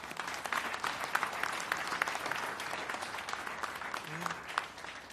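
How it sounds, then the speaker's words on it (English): A crowd at the 2017 Team Suzuki ECSTAR launch applauds rider Alex Rins, steady dense clapping heard at a moderate distance throughout. "A round of applause for Alex Rins"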